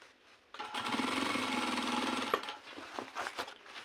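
A sewing machine stitching a trouser hem, a close motor whir that starts suddenly and runs steadily for a couple of seconds, then breaks into shorter stop-and-start bursts.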